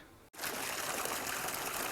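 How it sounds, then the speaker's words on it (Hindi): Well water gushing from a pipe into a collection tank on a farm, a steady broadband rush of flowing water starting abruptly after a brief gap and continuing loud and close. "ये देखिए पाइप के माध्यम से पानी निकल रहा है"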